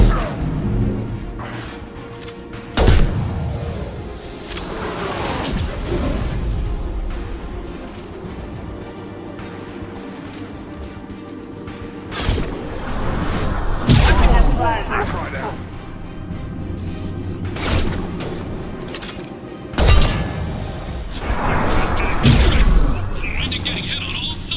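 Weapons fire and explode in Mass Effect 2 Legendary Edition during the Project Firewalker mission: heavy booms, blasts and gunfire burst out at intervals over ongoing game noise, with voices talking throughout.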